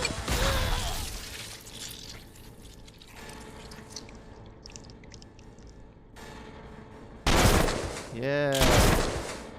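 Gunfire in the video game The Skin Stapler comes as loud bursts of shots, with a heavy stretch at the start and another near the end, mixed with game sounds and voices talking over it.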